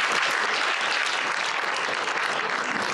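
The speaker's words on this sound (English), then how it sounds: "I would like all of us to give Marcus a round of applause." An audience gives a round of applause for Marcus, producing a continuous, even wash of many hands clapping at once that stays full and steady throughout, with no speech breaking through.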